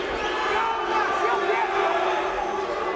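Restless crowd at a Kevin Randleman vs Pedro Rizzo MMA fight, a dense steady roar of murmuring and shouting voices filling the arena throughout.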